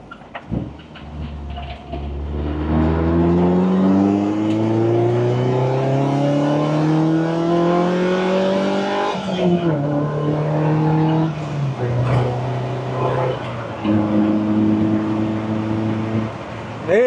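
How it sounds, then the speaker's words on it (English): Lotus Elise sports car engine revving while driving, rising through the gears in long climbing pulls with a drop at each shift, loud and close from inside the cabin over roughly seventeen seconds. "Man, you just need to listen to the engine of this car,"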